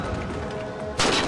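A single loud burst of gunfire from the Halo 4 video game breaks in near the end and follows quieter ambient game noise.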